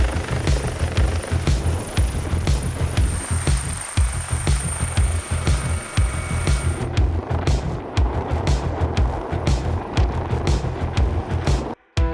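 A helicopter's rotor thumps steadily in a fast, heavy pulse close by during rescue hoist work, with engine whine on top and no talking.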